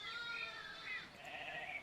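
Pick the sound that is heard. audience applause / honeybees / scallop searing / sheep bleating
sheep bleating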